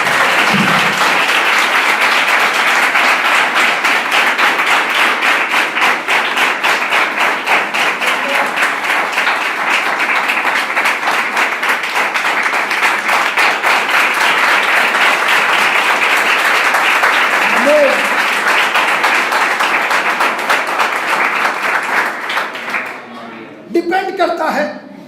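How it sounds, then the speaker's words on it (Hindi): A church congregation breaks into long, loud applause, a dense wall of rapid clapping that continues steadily for over twenty seconds before tapering off, with a few voices briefly heard near the end. "जोरदार तालियां यीशु मसीह को।"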